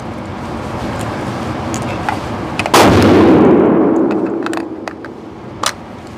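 Loud rifle shots from a Loki Weapon Systems AR-15 at an outdoor range: one sharp report with a long rumbling decay, plus a few lighter clicks and a brief later crack, with no talking.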